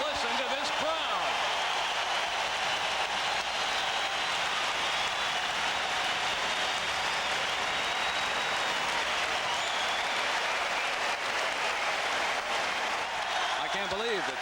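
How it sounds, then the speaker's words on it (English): Roaring arena crowd at a 1988 Eastern Conference basketball game between the Celtics and Hawks in Atlanta, a dense, steady wall of cheering and clapping that stays loud and unbroken throughout during a timeout. "Just listen to this crowd."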